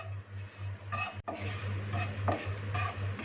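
Barley porridge grains dry-roasting in a pan without butter or oil, stirred with a utensil: scraping, rustling strokes against the pan repeat at an irregular rhythm over a low steady hum, close and moderately loud.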